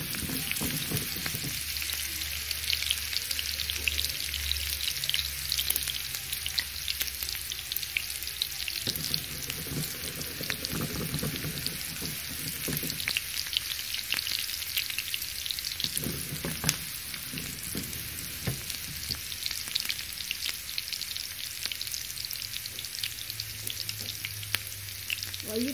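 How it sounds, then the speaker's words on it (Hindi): Chopped onions frying in hot oil in a pan for moong masoor daal, a steady close sizzle with occasional stirring scrapes throughout. "अब मैं इसमें डालूंगी प्याज।"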